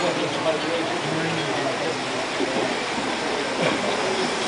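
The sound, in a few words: S-gauge model train pulled by 080 and 060 engines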